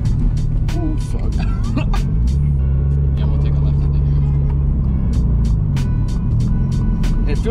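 A modified Toyota GR86 sports car's engine hums and rises in pitch while driving, loud and close from inside the cabin, with voices talking over it.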